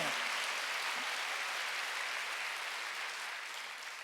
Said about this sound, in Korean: 박수 좀 쳐요